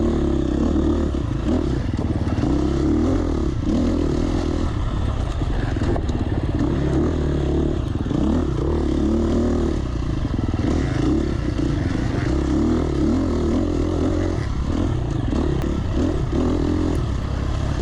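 A dirt bike engine drones loudly and continuously on single track during an enduro race, its pitch rising and falling with throttle changes, while clattering and scraping noises run underneath.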